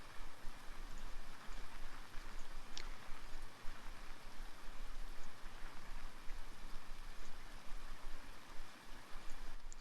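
Steady video-game rain pours down in a constant wash of hiss and patter, with no voices, only a faint brief tick partway through.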